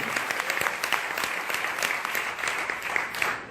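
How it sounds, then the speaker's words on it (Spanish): Audience applause at a product presentation, a steady patter of many hands clapping at moderate volume, continuous for a few seconds. "Un aplauso para todos ustedes."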